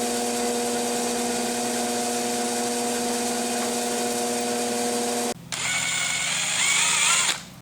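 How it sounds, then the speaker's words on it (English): Steel spring caps for a Yates American B244 get drilled: a steady electric drill motor whine runs for several seconds, then cuts into a brief harsher, higher grinding as the bit bites into the metal. "There are holes that need to be drilled in."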